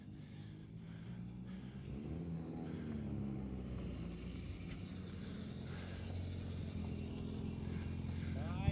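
A Mitsubishi Evo 9 rally car sits at the Manx Rally 2023 start ramp, its engine giving a steady, loud low rumble with a slight rise toward the end, while voices talk over it.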